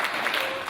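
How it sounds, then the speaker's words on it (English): Brief, steady burst of audience applause at the National Innovation Award 2014 ceremony, a dense wash of clapping heard alone. "A round of applause, please."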